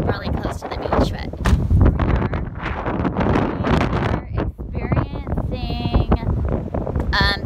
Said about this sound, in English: 35-mile-an-hour winds with gusts of up to 65